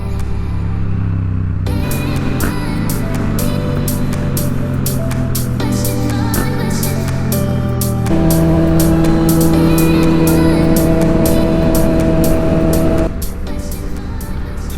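A Yamaha FZ07 motorcycle on fresh Michelin Pilot Road 4 tires rides mountain canyon roads, its engine droning loud and continuous with shifting pitch as it accelerates, heavy wind rush throughout.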